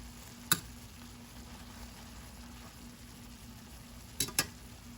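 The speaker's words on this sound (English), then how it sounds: "sauteing up nicely. Just keep stirring your onions." Onions sautéing in the pan juices of a steak marinade, a quiet even sizzle broken by one sharp scrape of a utensil early and a couple more near the end.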